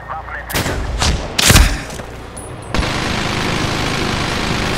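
Several loud, sharp gunshots ring out in quick bursts in the shooter Medal of Honor: Warfighter, followed by a steady roar of continuous fire or engine noise.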